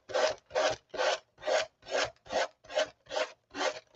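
A sanding block rasps across a surface in nine even back-and-forth strokes, close and crisp, with short silences between each pass.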